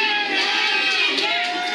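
A wrestling crowd at a POWW regional TV title match cheers and hollers in a dense, sustained roar, with shouts and whoops rising over the mass of voices.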